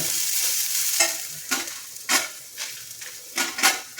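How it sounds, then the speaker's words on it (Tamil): Onion and tamarind roasting in a pan for a coriander chutney, with a bright steady sizzle broken by several sharp spoon scrapes and stirs, close and loud with no voices. "ஆனியன் போட்டு அது புளி சாஃப்டாக இருக்கும். புளியெல்லாம் போட்டு வறுத்து"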